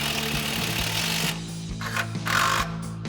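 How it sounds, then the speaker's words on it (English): Impact wrench driving 13mm bolts on the front suspension of a RAM 2500 during a leveling kit install, a steady close mechanical whir with harmonic hum, then brief louder bursts of rattling as the bolts tighten. "And we can tighten those back down with our 13mm socket on our impact."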